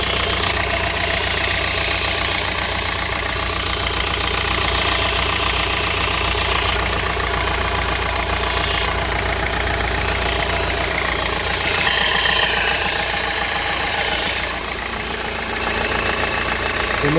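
A cold Nissan engine idling with a slight knock, a steady mid-pitched mechanical drone with faint ticking that holds close and even for the whole stretch, with no talk over it.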